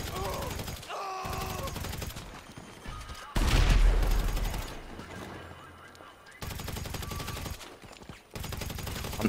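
Rapid gunfire rattles through a tense GTA 5 shootout, with a loud sustained burst of shots in the middle and choppier bursts around it, mixed with game ambience and a brief vocal-like honk near the start.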